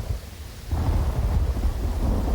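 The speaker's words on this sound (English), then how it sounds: "it's nice to see rain in the desert" Rain and thunder over a desert in the video game Uru: a quiet start, then from under a second in a steady, loud low rumble with dense rain hiss that carries on to the end.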